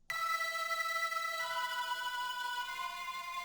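A sustained synth pad holds a bright, steady chord that shifts up partway through, smooth and continuous with no talking.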